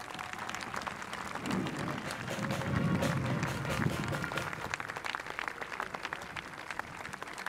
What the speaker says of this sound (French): Je crois qu'on peut applaudir encore une fois.